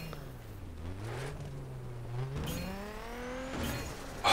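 A car in The Crew drives through crates. A steady engine drone rises and falls in pitch, then revs up, with a crash of impacts at the end, fairly quiet and unaccompanied.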